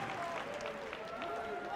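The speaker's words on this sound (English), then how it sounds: "The crowd is loving it right now" Crowd applauding and cheering in a large arena at the Apex Legends Global Series Year 2 Championship finals, a steady wash of clapping under a commentator's voice.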